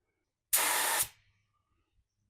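A paint spray gun laying down Rustoleum multi-tone paint at about 26 PSI, fan and fluid fully open, gives one close, loud, steady hiss for about half a second that then cuts off and fades.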